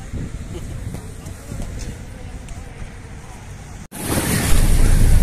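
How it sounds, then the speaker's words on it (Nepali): Sea waves crash against an Egyptian beach in strong wind, with continuous rumbling surf and buffeting wind noise on the microphone that surge louder near the end. "हावा पुरा चलिरहेछ होइन पुरै छाल हानिरहेछ"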